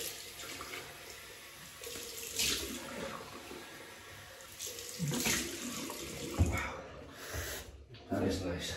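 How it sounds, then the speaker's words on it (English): A cold water rinse runs from a tap during a wet shave with Old Spice shaving cream and a Wilkinson Sword razor, a steady close splashing flow with brief louder surges while someone talks. "Cold water rinse."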